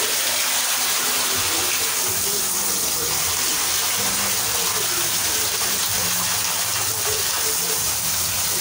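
Continuous running and splashing water as a duck is bathed, a steady wash close by with faint voices in the background.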